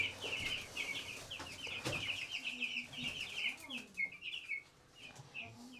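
Chickens cluck and chirp in a steady busy chatter, close by, with small bird-like peeps layered over a low background rumble.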